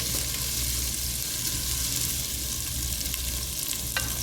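Onion fries in a pan for monggo stew, a dense close sizzle with occasional stirring clicks, steady throughout and without speech.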